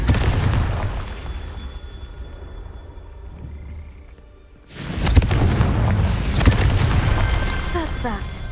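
A Confringo fire spell explodes in Hogwarts Legacy with a sudden loud, broad blast about halfway through, followed by a dense rumbling roar that persists, after a quieter stretch of ambient game sound.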